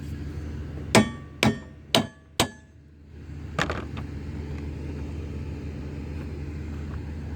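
Four light hammer taps land on a strut while it is being changed on a 2009 GMC Acadia, evenly spaced and close, followed by a softer clank and a quiet low hum.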